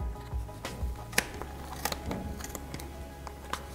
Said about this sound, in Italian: aiutatevi anche con le forbici che devono essere molto affilate, e abbiamo tagliato il nostro pompon